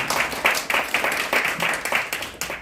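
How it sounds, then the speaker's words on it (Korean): A crowd claps steadily for a couple of seconds at a press conference, a dense, sustained round of applause with no voices over it. "여러분 환영의 박수 한번 부탁드리겠습니다"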